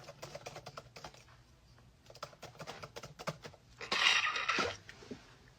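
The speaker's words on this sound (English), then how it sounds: "Luke, you love typing sounds." Rapid keystrokes clatter on a computer keyboard in uneven bursts and pauses, close and clear, ending with a louder, denser flurry of typing.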